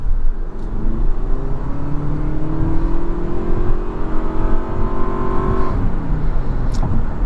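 A 2024 Toyota Prius Prime XSE accelerating hard from inside the cabin, a loud rising whir and engine drone climbing steadily in pitch over several seconds with road noise underneath.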